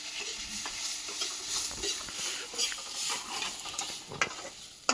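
A metal khunti spatula scrapes and stirs a thick curry in a pan, with steady sizzling from frying underneath and irregular scraping strokes close by, with no talking.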